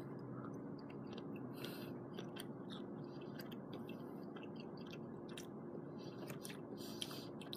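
Close, quiet chewing of rubbery Banquet frozen meat loaf, soft squishy mastication with occasional clicks and wet bites repeating steadily, no talking.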